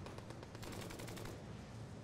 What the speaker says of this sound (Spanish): Dos tiros bien dados.